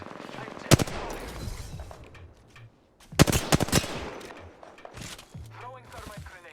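Bursts of gunfire in a tactical shooter video game, with sharp automatic volleys in two main clusters and scattered shots between, loud and close, alongside some radio-style speech.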